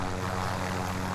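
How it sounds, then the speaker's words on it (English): A helicopter flies in a video game, giving a brief, steady, droning rotor and engine hum held at constant loudness. "I got a chopper right there, too."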